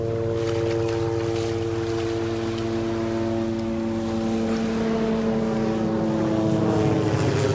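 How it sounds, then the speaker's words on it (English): A mosquito control helicopter, not spraying, flies over Delnor-Wiggins beach, its steady droning hum swelling slightly as it approaches from behind, loud and continuous. "A noisy helicopter coming up behind me."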